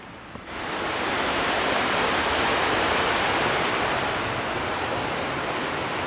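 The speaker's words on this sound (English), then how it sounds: "Then you can finally hear the river flowing into Gjende." Rushing water of a river flowing into Lake Gjende in Jotunheimen, Norway, swells up after a brief quiet start into a loud, constant broadband roar, steady and close, with no voices.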